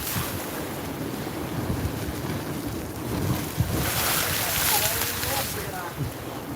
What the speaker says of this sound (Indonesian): Ombaknya guys.